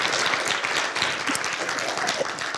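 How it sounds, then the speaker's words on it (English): A church congregation applauds after a testimony, steady crowded clapping filling the room at moderate loudness throughout, with no pause. "Give her a round of applause,"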